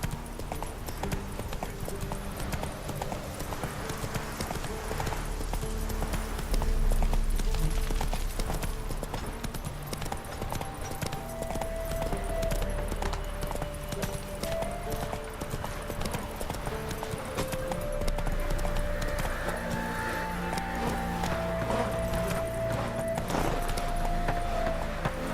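Roach, Geralt's horse in The Witcher 3: Wild Hunt, gallops with a continuous fast clip-clop of hooves over background game music and ambience, with a brief occasional whinny.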